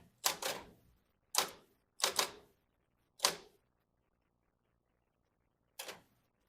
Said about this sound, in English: so you can hear that is a good old-fashioned electric typewriter